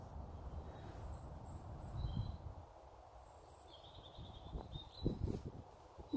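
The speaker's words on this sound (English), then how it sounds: "You hear the birds." Birds chirp and sing faintly in the distance during a countryside morning hike, with short high calls scattered over quiet outdoor ambience and a few soft nearby rustles.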